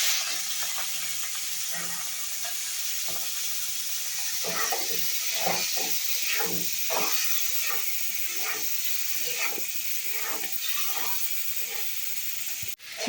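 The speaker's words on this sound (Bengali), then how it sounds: "এবার আমি চিংড়ি মাছটা ভেজে নেব।" Prawns fry in oil with a loud, steady hiss of sizzling, near and continuous, while softer stirring scrapes and crackles come and go through the middle.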